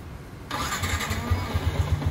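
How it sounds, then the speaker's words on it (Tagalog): A 2024 Yamaha Sniper 150 motorcycle engine cranks and catches after a brief hum, then settles into a steady, close putter. "maandar na yung makina"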